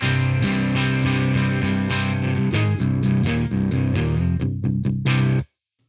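A Jackson electric guitar runs through a Moen Dragon Roar distortion pedal, giving dense, sustained chugging chords and riffs, loud and close, that stop abruptly at the end.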